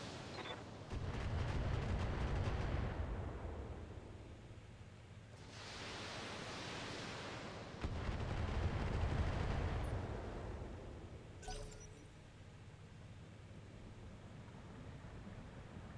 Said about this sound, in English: Firing on multiple enemies.